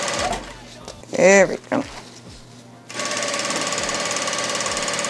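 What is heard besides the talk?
Vevor industrial sewing machine sewing ribbon tutu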